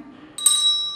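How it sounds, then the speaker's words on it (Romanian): A musical bell chime is struck once, a clear bright ring that follows a soft hum and then sustains steadily to the end, close and fairly loud. "Este un clopoțel care poate fi accesat fie așa,"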